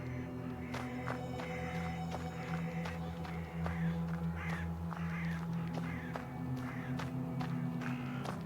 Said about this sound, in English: A restless mischief of magpies is circling the telegraph post.